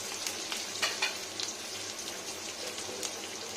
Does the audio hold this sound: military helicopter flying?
no